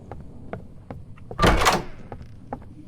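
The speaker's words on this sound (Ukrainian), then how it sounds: "Нащо ти взагалі відкриваєш шухлядки?" A drawer sliding open in the Roblox game DOORS: one short, loud scraping thunk that lasts under half a second, set among faint, scattered in-game clicks and taps.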